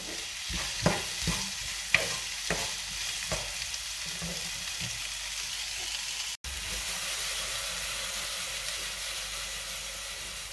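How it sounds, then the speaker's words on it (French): Peppers, onions, spices and minced meat fry in a pan for Turkish gozleme filling, a steady close sizzle with scraping stirs and clacks of a utensil early on. "Je vais laisser mes poivrons avec mes oignons revenir quelques minutes"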